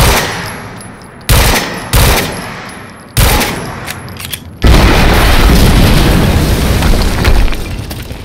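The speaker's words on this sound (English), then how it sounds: "we just heard an explosion near the harvesting perimeter" Explosions in the video game Quantum Break, a series of loud sharp booms with abrupt onsets, several separate blasts followed by a sustained heavy rumble that continues to the end.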